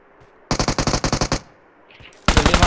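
Rapid automatic gunfire in the BGMI battle royale game arrives as a loud burst of about eight shots, then a pause and a second fast burst, close and sharp with no speech over it.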